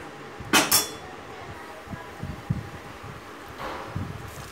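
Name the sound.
stirring urad dal rasam in pot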